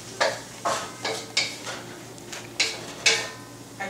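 Food is stirred in a pan on a stovetop, with six rhythmic scraping strokes of a utensil against the pan, close and clear over a low steady hum.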